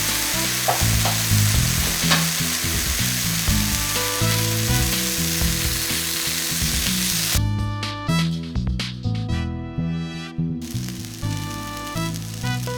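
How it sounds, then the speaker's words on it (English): A vegan egg mixture fries in a pan for an omelet, with a loud, continuous sizzle over a steady low tonal background. Crackling spatters pick up toward the end, and there is no talk. "I'm going to pour my eggs in."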